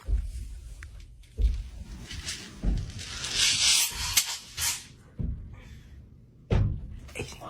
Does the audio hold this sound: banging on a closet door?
yes